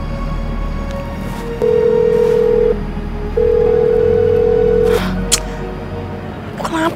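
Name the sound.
telephone ringing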